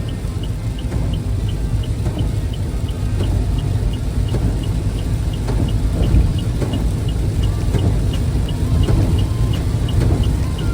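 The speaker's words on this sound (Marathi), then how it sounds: "इथे हळू पाऊस चालू आहे" Light monsoon rain falls near the Padgha toll plaza on a road trip, a soft even patter heard over a loud, steady low rumble that sounds like a running vehicle, with no talk.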